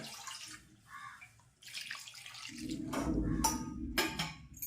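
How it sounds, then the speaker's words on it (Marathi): Water gushes from a tap into a pot, starting after some quiet clatter and rising into a steady splashing pour, close by. "थोडं पाणी त्याच्यात टाकते आणि उकडणार."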